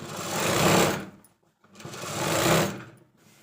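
Sewing machine stitching a girls' school uniform skirt: two quick whirring runs of rapid needle chatter, close and loud, separated by a brief pause.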